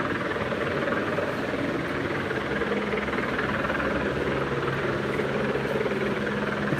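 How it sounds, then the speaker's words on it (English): Steady rumbling thump of a helicopter circling over downtown Los Angeles at night, continuous and fairly loud, holding a constant drone throughout with no voices. "And let's keep an eye on that helicopter."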